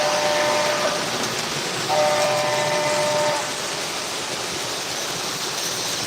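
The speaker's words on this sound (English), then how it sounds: "That's a nice locomotive." A locomotive running with its horn sounding: two steady blasts of the horn over a continuous rolling rumble of the train, loud and close, the second blast ending partway through.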